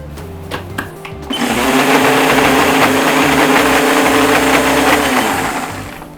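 A kitchen blender whirring at full speed as it purées basil into oil, starting after a few clicks and handling sounds and then holding a loud, steady motor drone for several seconds, close up.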